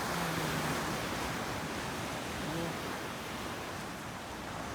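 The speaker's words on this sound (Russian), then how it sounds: "Океан." Atlantic Ocean surf breaks on a beach as a steady, broad wash of rolling waves, continuous and fairly loud, with wind mixed in.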